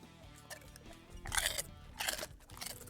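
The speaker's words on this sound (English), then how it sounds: "he can chew on the mic" Dog chewing on a microphone, close crunching and biting bursts with a couple of loud clusters, no voices over it.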